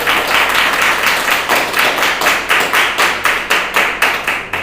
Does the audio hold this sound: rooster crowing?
no